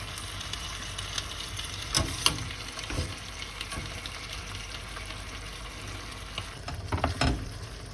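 Cooked lentils are tipped into a simmering sauce and stirred, giving a soft wet sizzle with a few louder spoon knocks and scrapes against the pot.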